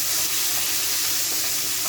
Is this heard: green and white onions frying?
yes